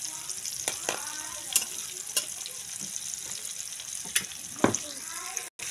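Garlic, onion and ginger sautéing in melted margarine for chicken curry, a steady close sizzle punctuated by sharp spatula taps and scrapes against the pan.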